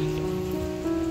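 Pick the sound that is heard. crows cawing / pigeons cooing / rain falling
rain falling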